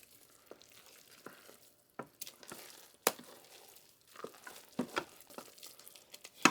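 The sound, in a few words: stirring freeze-dried jambalaya soup in pot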